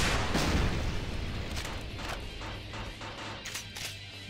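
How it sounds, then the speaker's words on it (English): Rocket launcher blasts in the Brutal Doom V20 realism mod leave deep, rumbling explosions and booming crashes fading into a low roar, with a few sharp bursts later and no voices. "Two rockets, they're done."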